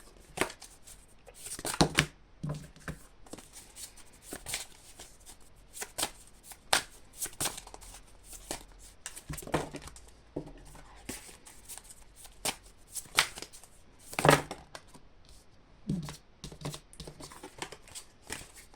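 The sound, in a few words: shuffling tarot cards for a reading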